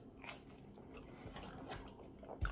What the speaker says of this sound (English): It's got that crunch.